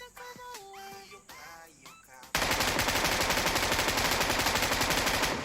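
Loud, rapid automatic gunfire in a battle royale video game bursts in abruptly and continues as a dense, evenly pulsing stream of shots, following a stretch of game sounds and a voice.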